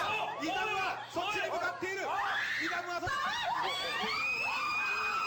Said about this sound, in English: They're fucking screaming and running away from this monster.